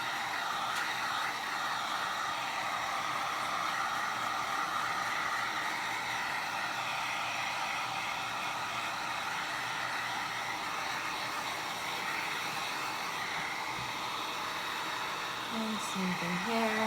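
A hair dryer blows steadily and loudly at close range over a painted journal page, drying the black paint in a constant whooshing stream that holds for the whole stretch.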